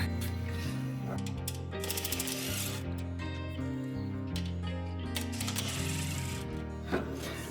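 A ratcheting wrench backs 10 mm metric bolts out of a 36-inch drum shop fan, producing a steady run of close, rapid metallic clicks over a low mechanical hum, with no one speaking.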